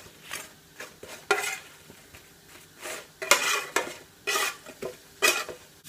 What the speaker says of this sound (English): my Cajun wedges have had about half an hour. And I'm just giving them a quick turn.